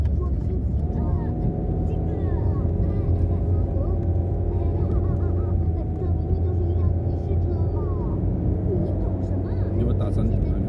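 A Toyota Yaris engine hums steadily at fairly high revs from inside the moving car, a constant low drone under people talking throughout.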